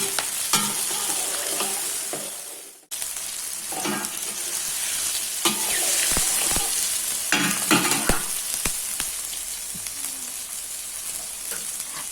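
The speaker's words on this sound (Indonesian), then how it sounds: "Kita aduk-aduk, kita goreng sampai semuanya benar-benar layu." Tomato, dried shrimp and spices fry and sizzle steadily in a pan for sambal, with repeated stirring scrapes and clatters, close and continuous, with a brief drop in level partway through.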